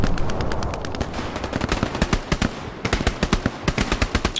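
Rapid, loud gunfire in a war video game, a steady stream of sharp close shots coming in fast bursts with a short break in the middle, and no talking heard over it.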